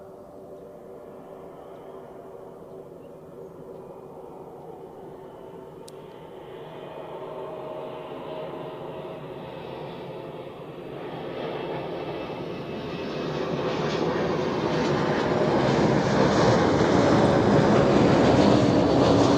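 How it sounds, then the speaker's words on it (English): A LOT Embraer 195 E2 airliner lands at Zurich Airport. Its engine roar swells steadily from a distant hum to a loud, broad rush as it nears and passes, with no voices. "next landing we have the LOT Embraer 195 E2"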